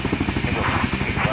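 Helicopter rotor thumping in Helicopter Simulator: Search & Rescue, a steady rapid chop with engine whine, close and loud, with someone talking over it.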